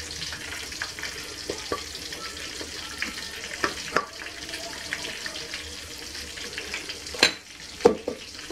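Cooked rice is spooned into a mold set in a pan over a sizzling base, with soft scraping, tapping and spoon knocks, close, under a continuous gentle frying hiss.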